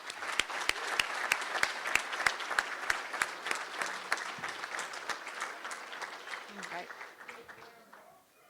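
Sustained applause from a crowd honoring Hall of Fame inductees at an induction ceremony, steady and dense for several seconds with a few sharp nearby claps standing out, then gradually fading away.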